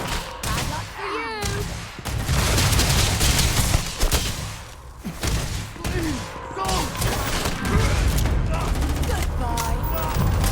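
Bursts of EM weapon gunfire in the Starfield video game during a firefight, loud repeated shots and impacts crowding the whole stretch, with voices talking over the combat.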